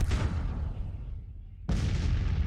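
Artillery fire in the Civil War strategy game Grand Tactician: a heavy, rumbling cannon boom fades out, then a second loud blast hits abruptly and keeps roaring.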